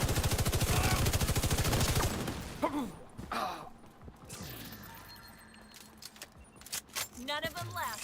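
Video game gunfire in The Division: a fast, loud burst of automatic shots for the first couple of seconds, then quieter scattered clatter and a few softer sounds.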